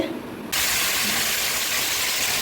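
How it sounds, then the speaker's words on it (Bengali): Spices for khichuri sizzling in hot oil in a puja kitchen, starting as a soft frying hiss and then bursting into a loud, dense, steady sizzle that continues to the end. "খিচুড়ি ফোড়ন দিয়েছে মাসি।"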